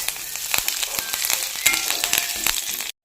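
Garlic, ginger and curry leaves frying in oil for a fish pickle, giving a steady, close sizzle with sharp crackling pops throughout, no voices, ending abruptly.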